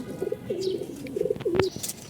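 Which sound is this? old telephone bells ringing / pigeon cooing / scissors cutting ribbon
pigeon cooing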